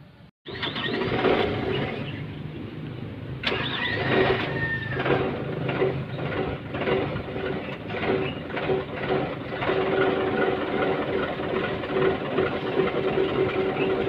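A Caterpillar 313 backhoe's diesel engine, troubled by misfiring and stalling, cranks and catches after a brief pause, then runs steadily with a loud, continuous rumble and faint rhythmic knocking throughout.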